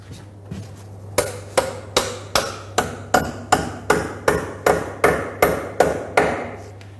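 Sharp, evenly spaced hammer blows, about fourteen in a row, drive a Hilti HFV frame anchor into a wall hole at a steady quick rhythm close by, with a constant low hum underneath.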